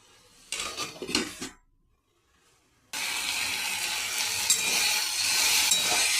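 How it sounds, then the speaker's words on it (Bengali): A lid goes onto a pan of greens frying with potato, a few clattering metal knocks up front, then after a short silence a steady loud hiss of steam and frying takes over to the end. "এবার আমি একটু চাপা ঢাকা দিয়ে দেবো।"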